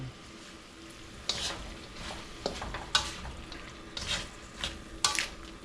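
Snow peas and beans sautéing with shrimp in a pan, a soft sizzle under scattered clinks and scrapes of stirring, fairly quiet and close.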